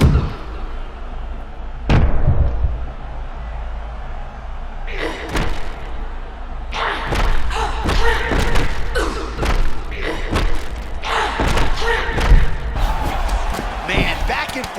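Heavy punches and kicks thud and smack in a women's fight in EA Sports UFC 6, arriving in irregular bursts of sharp impacts over a steady low rumble of crowd and arena noise.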